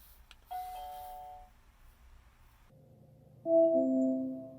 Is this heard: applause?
no